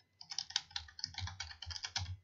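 Rapid, uneven keystrokes on a computer keyboard, close and clear, in short bursts with a brief pause, and no voices.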